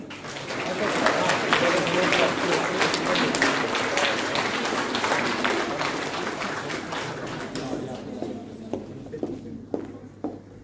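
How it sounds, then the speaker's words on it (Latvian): An audience at a ninth-grade school graduation ceremony claps steadily for several seconds, then the applause thins out to scattered individual claps. "Sagaidām ar aplausēm."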